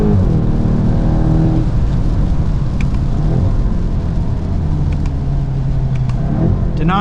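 A 2025 Volkswagen Golf GTI accelerates hard on a race track with its DSG gearbox in manual mode. Loud engine revving climbs in pitch, breaks at a gear change, then builds again under a constant rumble of road and wind.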